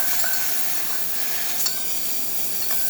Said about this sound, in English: Steaming of this machine, as you can see,